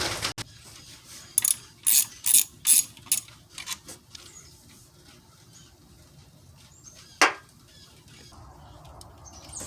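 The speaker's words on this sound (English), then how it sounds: "you're going to need a 1/2 inch deep ratchet" A ratchet with a 1/2 inch deep socket works the alternator bolts on a 2007 Ford Mustang V6 4.0. Close, crisp bursts of rapid pawl clicking repeat about six times, then a single sharp click, then near silence.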